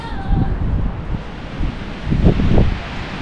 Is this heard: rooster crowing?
no